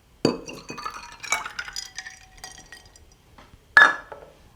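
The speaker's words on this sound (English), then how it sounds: "Stir it up, give it a little shake, and that is your drink." A spoon stirs a creamy toasted almond milk drink in a glass, giving a sharp glass clink at the start, light tinkling rattles in between, and another bright clink near the end.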